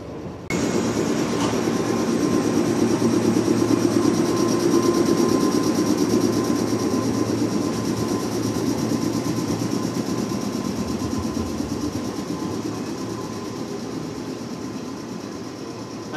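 An old JNR-era 113 series electric train pulls out of Yamashina station on the Biwako Line, a loud, steady rumble of wheels and motors with faint rhythmic clatter that slowly fades as it leaves.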